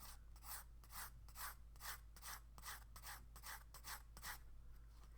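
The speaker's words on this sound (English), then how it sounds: "working with the side of the pencil" The side of a graphite pencil rubs across paper in a series of about a dozen rhythmic scratchy strokes, close and quiet over a low steady hum.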